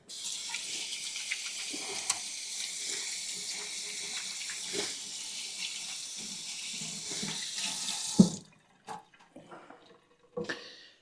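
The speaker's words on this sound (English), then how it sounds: "Let me rinse my hands off here." A kitchen tap runs steadily as hands are rinsed underneath, a continuous close splashing stream that stops abruptly, followed by a few drips and small handling knocks, with no talking.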